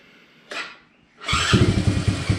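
A Chinese ATV engine cranks with a short burst, pauses briefly, then catches and settles into a loud, close, steady running rumble.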